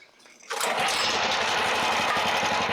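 Engine of a Chinese mini excavator with over 800 hours bursts into life after a key start and settles into a loud, steady rattling idle close by.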